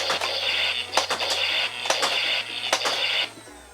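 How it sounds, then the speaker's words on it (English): Nerf Zombie Strike Revoltinator flywheel blaster with lights and sounds, revved and fired a few times: a steady motor hum under roughly five or six sharp, quick shot bursts in a loose rhythm, close and fairly loud, no voices. "Let's go ahead and fire it off a few times, why don't we?"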